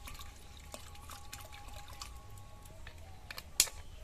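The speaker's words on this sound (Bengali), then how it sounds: "এবার আমি আমটা সিদ্ধ করার জন্য কিছুটা পরিমাণ জল দেব।" Water trickles and pours into a pot for boiling raw mango, a quiet, uneven splashing with a brief sharper clink near the end.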